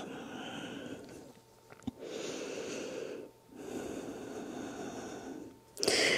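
Slow, deep breaths during a yoga stretch, two long audible exhale cycles with a clear pause between them, close and soft, followed by a sharper breath at the end.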